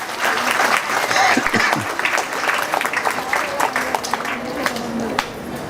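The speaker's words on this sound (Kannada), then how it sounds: "ಎಲ್ಲರೂ ಒಂದು ಚಪ್ಪಾಳೆ ಮೂಲಕ ಧನ್ಯವಾದ ತಿಳಿಸೋಣ" Applause at a college function, a crowd clapping steadily and fairly loudly for thanks, with dense overlapping claps sustained throughout and a faint voice occasionally under it.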